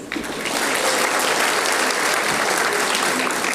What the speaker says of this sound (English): Can we hear a big round of applause